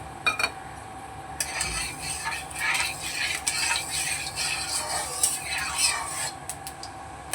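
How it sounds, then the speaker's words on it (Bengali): Black cumin seeds splutter and crackle in hot mustard oil, a dense steady sizzle with sharp pops and occasional metal utensil clinks, close and continuous with no talking. "তেলটা গরম হয়ে গেছে ফোড়নে দিয়ে দিচ্ছি আমি একটু কালো জিরে"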